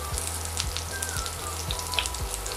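A veal chop starts cooking in foaming brown butter with a bright, continuous sizzle and crackle, close to the mic, with a few dull low knocks repeating every half second or so beneath it.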